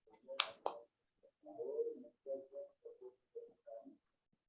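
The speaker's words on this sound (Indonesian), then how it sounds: "marilah kita melakukan tepuk PPK" Schoolchildren perform the PPK clapping chant in a classroom, a couple of sharp claps up front followed by a string of short rhythmic chanted syllables, moderately close.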